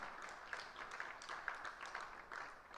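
Audience applause at a university public lecture, a steady patter of many hands clapping that sounds faint and distant throughout.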